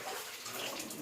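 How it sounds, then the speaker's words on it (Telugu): Water splashed up by hand at a hillside cave shrine near Yaganti, a close, steady wash of sloshing and spattering filling the whole second. "ఈ నీళ్ళు పైకి జల్లుకుందాం"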